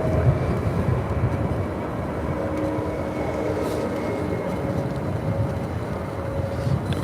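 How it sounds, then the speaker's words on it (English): A distant, steady roar of a United Airlines Boeing Dreamliner taking off at LAX carries on at moderate volume throughout, with a low-frequency rumble and a faint tonal whine. "The next takeoff is United Airlines 2413, a Dreamliner headed out to Washington Dulles."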